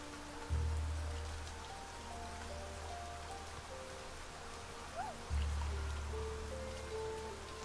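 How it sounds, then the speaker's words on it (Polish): Rain in the life-simulation game Niche, a steady soft patter on surfaces with faint trickling, low and continuous throughout, and no voices. "jest deszcz"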